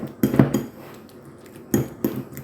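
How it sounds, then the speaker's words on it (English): Bananas mashed with cutlery in a dish, two separate bursts of metal clinking and scraping against the bowl, close and moderately loud, with quiet pauses between them. "I have here the bananas, guys, so we need to smash them"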